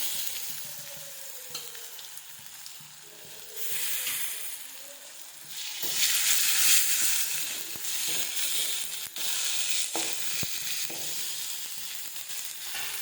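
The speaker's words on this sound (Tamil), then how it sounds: "வெங்காயம் நம்ம வதங்கிருச்சு இந்த சமயத்தில் நம்ம இஞ்சி பூண்டு அதுக்கு சேர்த்துக்கலாம்" Onions frying with ginger-garlic paste and turmeric for a potato and egg gravy, sizzling steadily with broad hiss that swells loudly midway, broken by a few sharp clicks of stirring against the pan.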